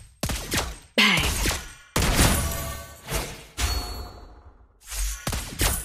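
Sniper gunshots from Lesley, a Mobile Legends video game character, ring out as a series of sharp, loud cracks with decaying tails, separated by short gaps.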